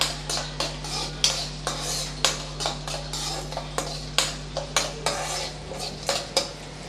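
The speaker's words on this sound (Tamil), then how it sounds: "இப்போ எல்லாத்தையும் சேர்த்து நல்லா வதக்கி விட்டுறலாம் கேரட் வந்து நல்லா அந்த எண்ணெயிலேயே வேகிற அளவுக்கு நல்லா வதக்கி விட்டுக்கலாம்" Carrots sautéing in oil in a pan for ragi upma, with a quick run of sharp metal spoon scrapes and clinks against the pan over a soft sizzle and a low steady hum, with no speech.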